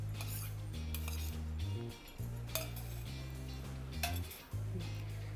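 A spoon clinks and scrapes against a bowl while tempering is mixed into a traditional tenka chutney, steady clinking strokes over a loud continuous hum.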